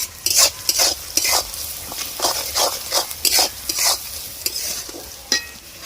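Onions sizzle in a hot pan while a spatula scrapes and stirs in repeated bursts, the frying hiss rising with each stroke.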